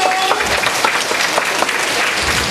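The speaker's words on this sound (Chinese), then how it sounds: "来，我们用掌声欢迎我们的父贤来，这点传师入场，来，掌声欢迎。" An audience at a children's classical-text recitation event applauds to welcome an arriving guest, producing dense, sustained clapping from a full room without pause.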